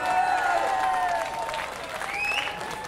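Concert audience at the Rockin' Charlie festival applauding the volunteers, a dense sustained clapping that fades slightly, with a few cheers and whistles over it.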